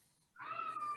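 An indoor cat gives a single faint, drawn-out meow that starts after a short quiet pause and holds for over half a second in a quiet room.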